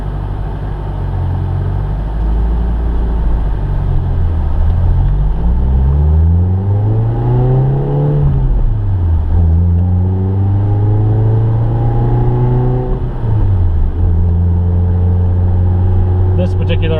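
A blue 1999 Toyota Altezza with 156,000 kilometres on it drives along, its engine rising and falling in pitch through several gear changes under steady road noise, with a voice talking throughout.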